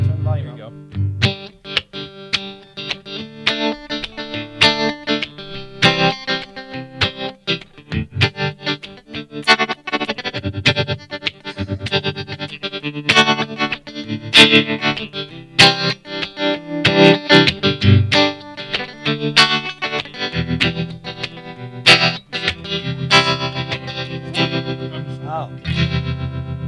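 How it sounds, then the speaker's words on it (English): An electric guitar plays chords through a tremolo effect, its volume pulsing up and down in a throbbing, wavering, spaghetti-western style pattern. "that old spaghetti western sound, like from the old western movies. Literally just volume modulation"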